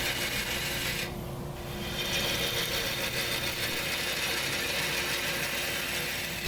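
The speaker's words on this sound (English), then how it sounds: "I went ahead and cranked the lathe speed up a little bit here" A wood lathe spins a maple burl bowl blank at raised speed, making a loud, steady whirring drone with a continuous rasping hiss from the tool cutting wood, unbroken throughout.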